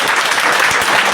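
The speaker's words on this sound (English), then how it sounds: "Once again, a big round of applause." An audience at a teaching-skills session gives a round of applause, a brief loud burst of dense clapping filling the moment.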